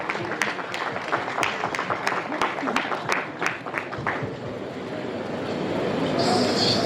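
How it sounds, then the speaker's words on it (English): Audience applause at an event, a series of distinct sharp claps at first, then a steadier wash of crowd clapping and murmur building toward the end. "A round of applause, please."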